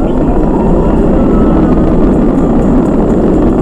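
A SpaceX Falcon 9 rocket roars during a crewed launch, a dense, loud, continuous low rumble throttling back up to full power, with no clear voices over it.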